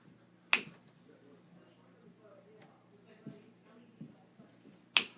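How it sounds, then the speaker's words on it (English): Two sharp finger snaps ring out clearly, one near the start and another about four and a half seconds later, with soft, quiet sounds and faint murmuring in between. "As soon as I snap my fingers"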